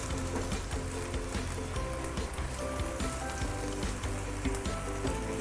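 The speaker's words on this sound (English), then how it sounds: "we want to pan fry every side of the tofu to really bring out the fragrance of the beancurd" Pressed tofu pan-frying in oil for a fish head tofu stew, a steady close sizzle with crackling spatter and occasional light taps of a spoon against the pan.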